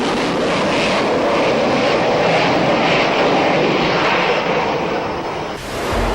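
A Grumman A-6 Intruder attack jet roars loudly and continuously at close range, a broad, steady engine rush with a slight shift near the end.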